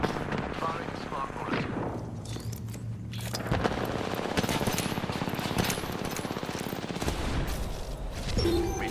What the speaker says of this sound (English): Firing smart bullet